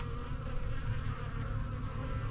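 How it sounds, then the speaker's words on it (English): Many bees buzzing close by around water, a steady low drone that holds throughout without any voices. "it's enough to make all the bees happy. Can you hear them?"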